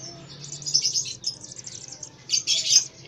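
Young sogon (srigati) bird chicks, about two weeks old and hand-reared, chirp in close, rapid bursts of high, thin peeps, with a louder cluster of calls near the end.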